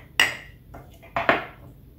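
A few sharp clinks of a mortar and pestle working fresh mint for a mint julep: one crisp knock, a softer tap, then two quick strikes close together, near and fairly quiet.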